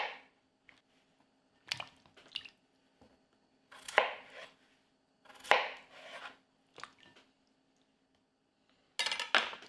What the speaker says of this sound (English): Now with the potatoes, I'm going just to quarter them.